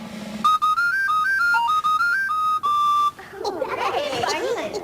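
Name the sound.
captain's whistle being blown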